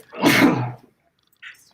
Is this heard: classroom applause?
no